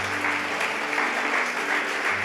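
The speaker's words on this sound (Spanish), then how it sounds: "Dale un fuerte aplauso al Señor en esta mañana" Steady, dense applause from a church congregation on a Sunday morning, a continuous close wash of clapping with a faint sustained tone beneath.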